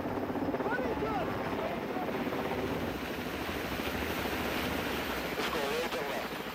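L.A. County Sheriff's Air 5 rescue helicopter hovering close by during a cliff rescue, a loud continuous rotor roar that fills the whole stretch, with faint voices underneath.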